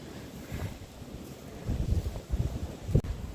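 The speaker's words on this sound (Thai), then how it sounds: "ลมแรง" Strong wind blows outdoors at a house, buffeting the microphone in low rumbling gusts that swell and drop irregularly, with one sharper thump near the end.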